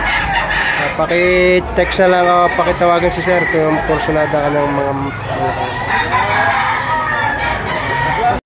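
Roosters crow repeatedly at a chicken auction market in Lipa, Batangas, overlapping calls loud and near, with someone talking continuously over them.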